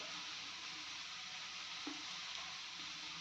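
Ground spices sizzling as they fry in a hot pan, a steady broad hiss holding level throughout with a couple of faint clinks near the end and no voices.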